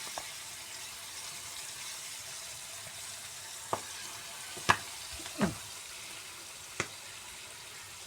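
Home-style chicken pieces frying in oil make a continuous soft sizzle, broken by a few sharp clicks and spatters from the pan.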